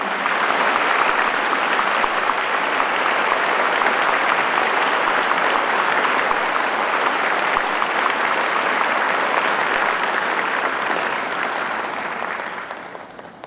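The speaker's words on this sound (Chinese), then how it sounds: "让我们把掌声献给曾师母。" Sustained applause from a seated audience at a Hakka cultural stage event, honoring Dr. Zeng's wife, Ms. Huang Cuimao; dense steady clapping holds for about twelve seconds, then tapers off at the end, with no voices over it.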